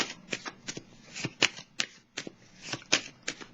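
Tarot cards being handled and laid down, a close series of crisp flicks and soft slaps in an irregular rhythm, each one distinct against a quiet background.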